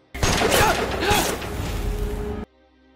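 A burst of gunfire, a rapid dense volley of shots mixed with crashing noise, loud and chaotic, then cutting off abruptly.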